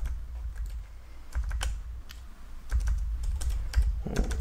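Typing on a computer keyboard at a desk, with bursts of quick, close key clicks separated by brief pauses, fairly soft against a low room hum.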